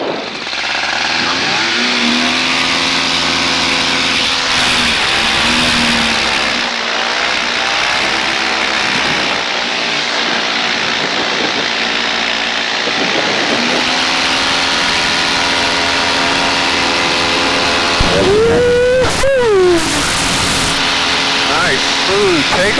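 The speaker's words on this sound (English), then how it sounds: "Nice, smooth takeoff." A small airplane engine drones steadily at high power through the takeoff roll, with a loud, tonal hum that shifts in pitch as throttle and speed change. A voice talks over the engine.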